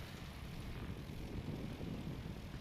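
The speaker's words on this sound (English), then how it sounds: "You can see these heavier aircraft really struggling in the light wind and hot conditions." Light aircraft taking off at a STOL competition practice in light wind and hot conditions, a steady propeller-engine drone holding at constant loudness at moderate distance throughout.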